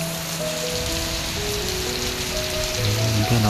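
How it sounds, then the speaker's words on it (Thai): Heavy rain pours down in front of a house during a windy storm in northern Thailand, a dense, loud, steady wash of falling water with faint tonal sounds drifting beneath. "นี่ฝนตกหนักสาดถึงใต้ถุนบ้านเลย"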